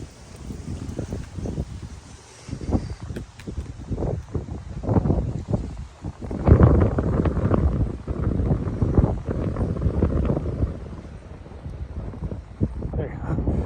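Heavy wind buffets the microphone with low, rumbling gusts throughout on a cold day at the Ironman 70.3 Gulf Coast triathlon, while a person talks underneath the roar.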